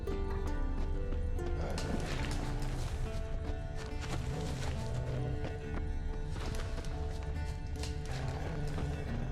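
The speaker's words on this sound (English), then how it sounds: "There's a horse, so he must be nearby." Horse hooves clopping and occasional whinnies in The Witcher 3, steady busy clatter at moderate volume layered with dense game ambience and music, no talking.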